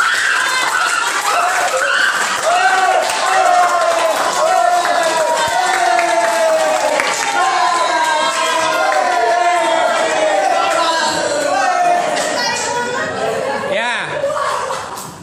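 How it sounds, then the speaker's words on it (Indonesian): Students in a classroom respond after group presentations with clapping mixed into loud chatter and laughter, a lively, sustained crowd noise with voices throughout. "Kalau saya dengar suara tepuk tangannya hampir merata di semua kelompok"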